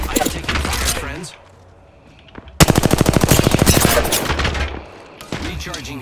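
Video game battle royale gunfire: a dense rapid burst of automatic shots, loud and close, with scattered shots and game sounds before and after.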